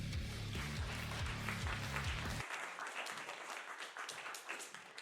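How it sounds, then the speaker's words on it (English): Audience at a university game jam applauds a team in a dense burst of clapping that runs throughout, with a voice over the start before the clapping continues alone and slightly fainter. "But big round of applause for them."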